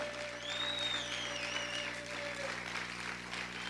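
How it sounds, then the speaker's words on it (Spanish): Congregation applauding during a Spanish-language church service, continuous moderate clapping with a sustained tone and sliding melodic sounds beneath. "Aplaude, aplaude, aplaude fuerte a tu Rey."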